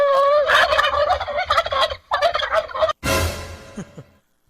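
A turkey gobbles loudly and close in rapid bursts, followed by a brief noisy rustle.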